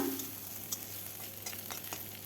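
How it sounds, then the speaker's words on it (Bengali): Steady sizzling of dried shrimp frying in hot mustard oil, with a few faint stirring scrapes along the way. "চিংড়ি মাছের শুটকিগুলো এখন আমি ভেজে নেব।"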